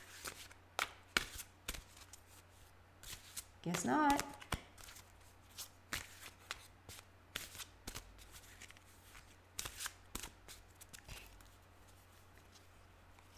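Tarot cards shuffle close by in quick soft riffles and slaps, with one longer ruffling burst, while a person speaks briefly over a faint steady hum.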